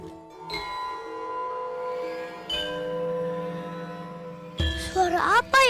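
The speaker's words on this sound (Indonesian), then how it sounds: "Iya, itu suara gamelan." Gamelan music rings out on bronze gongs and metallophones, sustained metallic tones struck a few times with long decays, then a burst of brighter warbling sounds near the end.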